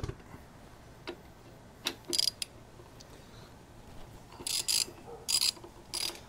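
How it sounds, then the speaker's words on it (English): Ratchet with a T40 Torx bit breaking caliper bolts free on a Softail motorcycle, sharp ratcheting clicks in separate bursts with brief pauses, close and fairly loud over a quiet background. "take a T40 Torx bit, break both of these free"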